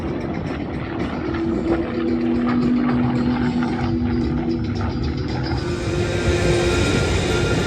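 A propeller aircraft with an air-cooled, 2,700-horsepower engine drones loudly and steadily at an air show in Smyrna, Tennessee, with a sustained engine tone throughout.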